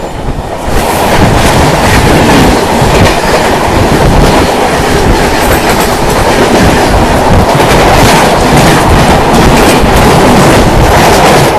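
An express train races along at over 100 km/h, its steady loud roar and rhythmic clickety-clack of wheels on rail filling the whole stretch without a break; no one speaks.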